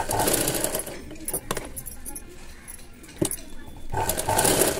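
A sewing machine stitches L-shaped square-neck thread piping on cloth, running in steady buzzing bursts near and loud, stopping briefly in the middle before starting again.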